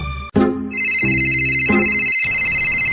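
A mobile phone ringtone plays loudly and close, a sustained electronic melody with repeating tonal notes, beginning after a brief sharp sound and continuing to the end.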